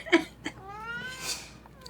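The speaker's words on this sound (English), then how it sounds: "If you can hear a cat, that would be Tigger." A house cat meows in a drawn-out, wavering cry, close and moderately loud, after a couple of short sharp sounds.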